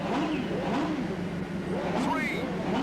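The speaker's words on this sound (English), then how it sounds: "Mr. Motivator, rev your engine" A motorbike engine revs on the start line of a video game race in a GamesMaster celebrity challenge. Repeated rising and falling revs roar steadily throughout, with voices talking over the engine.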